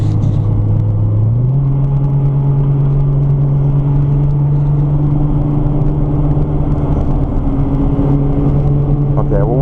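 Nissan GT-R on a race track, engine droning steadily and loud throughout, pitch stepping up early as it accelerates and holds a sustained tone, with road rumble underneath.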